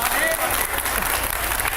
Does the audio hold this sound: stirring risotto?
no